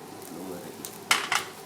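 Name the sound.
stir-frying beans in a pan for shepherd's pie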